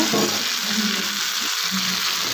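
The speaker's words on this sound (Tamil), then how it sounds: "கொத்தமல்லி தலை வந்து நல்லா ஃப்ரை ஆகணுங்க" Coriander stems frying in a pan for radish chutney hiss with a loud, continuous sizzle, and brief scraping stirs are heard underneath.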